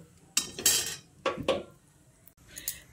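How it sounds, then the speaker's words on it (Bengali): A few clattering scrapes and clinks of a metal spoon against a pan and bowl as fried spices are transferred, coming in short bursts with quiet gaps between. "এবার এটাকে একটা বাটির মধ্যে তুলে নিচ্ছি"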